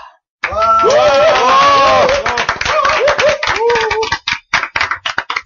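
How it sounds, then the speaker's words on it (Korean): A small group claps together in a broadcast studio at the start of a Korean talk show. Brisk, close, uneven hand claps mix with excited voices, and a few scattered claps trail off at the end. "박수 소리로 짐작하셨겠지만 오늘 떼거지 방송이고요"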